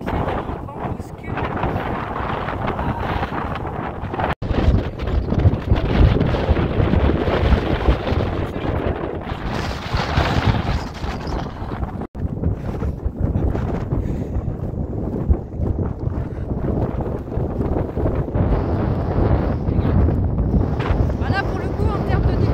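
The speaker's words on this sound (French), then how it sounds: "le vent bouscule" Strong, continuous wind roaring and buffeting the microphone while walking along a road between Troia and Lucera, Italy, loud throughout with brief dropouts, gusts swelling and easing.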